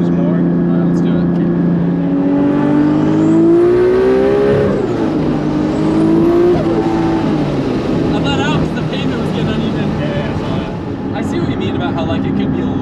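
A single-turbo BMW 335i revving and accelerating with the windows open, heard from inside as a rising and falling engine whine with shifting pitch and a voice talking over it.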